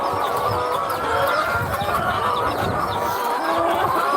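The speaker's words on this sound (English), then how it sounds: "These are my chickens." A flock of farm chickens in Aklan, Philippines clucks steadily and overlapping, close by, with a dense outdoor barnyard murmur running throughout.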